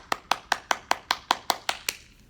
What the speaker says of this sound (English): And then we'll clap them together.